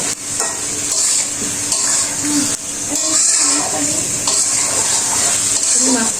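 Fried potatoes and pointed gourd going into boal fish curry in a pan, a loud steady hiss of frying with spatula scrapes, close by, and a voice audible underneath.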